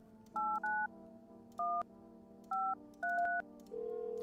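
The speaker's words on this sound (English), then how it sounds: "Let's try phone roulette again" Touch-tone dialing beeps in a video game, a run of short, evenly pitched tone bursts in small clusters, ending in a longer held tone over a steady low hum, with no talking.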